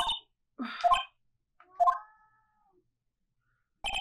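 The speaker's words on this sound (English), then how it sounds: "if you can hear my cat meowing" A house cat meows a few times, close by and fairly loud, with short quiet gaps between the cries and a final meow near the end.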